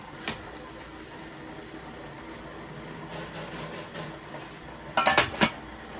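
A lid goes onto a pot in a home kitchen while a fish fry dinner cooks, with a small clink early on, then a louder cluster of metallic clanks and rattles as it settles.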